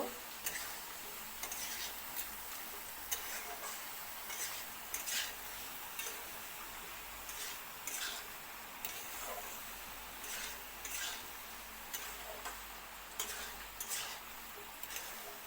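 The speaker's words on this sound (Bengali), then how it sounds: "এবার দিয়ে দিলাম সিদ্ধ করা কচুমুখী ভালো করে একসঙ্গে মশলার মধ্যে মিশানো হইব" Boiled taro (kochu mukhi) being stirred into spices in a pan: a steady run of clicking, scraping utensil strokes over a soft, continuous sizzle, close and fairly quiet, with no talking.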